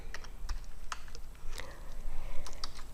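A computer keyboard shortcut being pressed, Ctrl-V to paste, gives a few sharp, close key clicks spread across a quiet stretch, alone with no talk.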